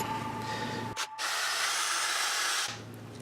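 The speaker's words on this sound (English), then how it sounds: "I just put this on my drill and go to town with it." A power drill spinning a wet polishing pad on pewter whirs loudly, briefly cutting out and restarting, then spins steadily with a hissing, spraying edge before slowing down.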